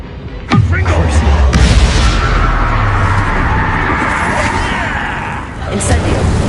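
A blasting spell detonates in Hogwarts Legacy, a sharp boom at the start followed by a sustained roaring rumble and crackle, with a shouted voice over the clamor.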